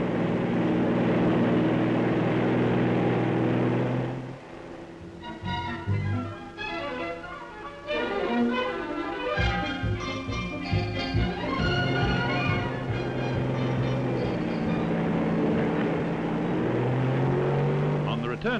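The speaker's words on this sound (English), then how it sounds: "A powerful pump operated by an ordinary car engine drives the boat by thrusting out behind it a high-speed water jet" A New Zealand jet boat, propelled by a high-speed water jet from a pump driven by an ordinary car engine, roars steadily and loudly up the shallows and rapids of the Waimakariri Gorge, its engine note shifting partway through, heard under narration.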